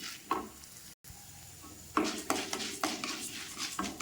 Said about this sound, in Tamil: உளுந்து போட்டு நல்லா வறுக்கணும்.